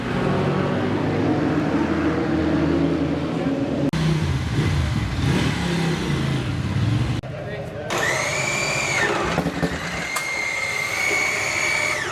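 Ducati motorcycle engines rev loudly inside a garage at a classic motorcycle festival at Donington Park, a rough, continuous roar with a sharp rising rev partway through, while people talk over the noise.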